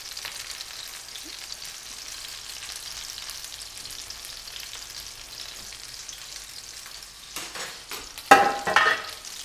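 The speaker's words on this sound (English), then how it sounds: "You can see there's a little sizzle in the pan" Gentle, continuous sizzling of meatballs (faggots) frying in a pan, soft and close, with a brief burst of louder spattering and stirring near the end.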